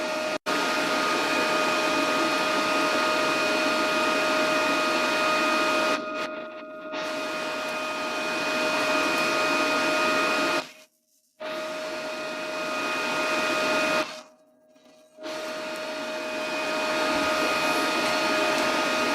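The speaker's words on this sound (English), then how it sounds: "So I'm starting again with tacking, and then we'll try the fillet weld." Tack welding thin sheet metal with a Parkside PMSG200 flux-core welder: a steady, loud crackling buzz runs nearly throughout, broken by three short silent gaps between welds, with no talking.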